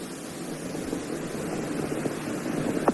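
Space Shuttle main engines during launch ascent, throttling down, give a steady, broad, distant-sounding roar with no voices over it.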